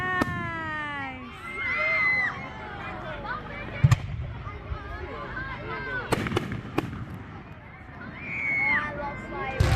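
Fireworks on Guy Fawkes bonfire night in Te Kuiti, New Zealand, burst with sharp bangs and crackles amid an outdoor crowd, while nearby voices exclaim and children shout.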